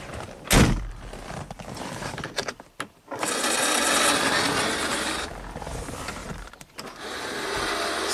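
A sharp thump of a 1984 Porsche 928S door shutting, followed by a steady whirring hum of the power locks with brief clicks and a pause, recorded close.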